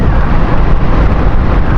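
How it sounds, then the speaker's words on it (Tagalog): Strong wind roars and buffets the microphone in a loud, steady rumble with no break throughout. "Oh yeah, mahangin."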